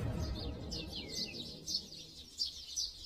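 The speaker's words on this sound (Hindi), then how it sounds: "सुबह सुबह जंगल से उठती जानवरों और पक्षियों की आवाजों से क्षितिज की नींद टूट गई।" Birds calling in a forest in the morning: repeated high chirps and tweets in quick bursts, fairly near and clear, over a low quiet background with no talk.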